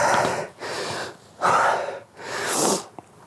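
Heavy, rhythmic breathing during a hard workout, with four loud, drawn-out breaths in quick succession, close to the mic, with no talking.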